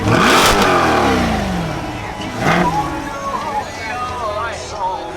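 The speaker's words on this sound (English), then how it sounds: "You can give it a rev." A Dodge Challenger Hellcat engine revs hard with its exhaust opened and fades, then revs again more briefly, loud and close, with a voice talking over the later part.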